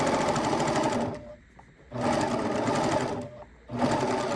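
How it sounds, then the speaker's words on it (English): A sewing machine stitching thin necktie fabric runs in fast, steady bursts, pausing briefly twice between stretches of stitching, close and clear. "this material is so thin that it's having no resistance with the sewing machine at all"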